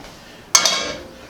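Cooked shrimp for shrimp Alfredo are moved from a pan into a plate or bowl. Two close metallic clinks ring out and fade over a quiet background.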